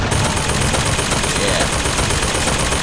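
A possessed machine gun turret in Bioshock Infinite fires a loud, dense, continuous burst of rapid gunfire from close by with no break.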